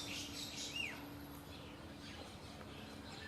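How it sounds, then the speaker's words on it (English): Morning birds sing in Fiji, faint and some way off, with a few high chirps and whistled phrases over a quiet, steady background and no voices. "every morning I wake up to these beautiful bird songs"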